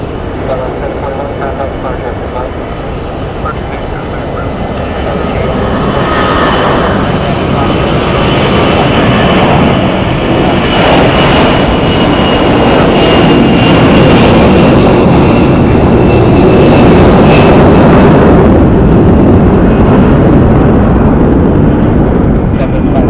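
Airliner jet engines roar at Phoenix Sky Harbor Airport, a loud, sustained broadband rumble that swells after a few seconds and holds steady to the end, with faint radio chatter layered over it.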